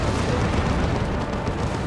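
An orbital bombardment explodes in the Warhammer 40k: Dawn of War 2 video game, a loud, continuous booming rumble that fills the whole moment with heavy low roar and crackle, with no voices.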